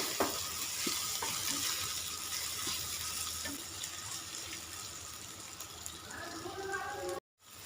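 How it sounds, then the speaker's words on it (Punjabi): Onion fried with ginger and green chili paste sizzles steadily in a pan while being stirred, with scraping clinks of the spoon over the continuous hiss, ending in a brief silence. "ਅਦਰਕ ਤੇ ਹਰੀਆਂ ਮਿਰਚਾਂ ਦਾ ਪੇਸਟ ਪਾ ਦਾਂਗੇ ਇਹਨਾਂ ਨੂੰ ਵੀ ਆਪਾਂ ਮਿਕਸ ਕਰ ਲੈਣਾ ਚੰਗੀ ਤਰ੍ਹਾਂ ਨਾਲ"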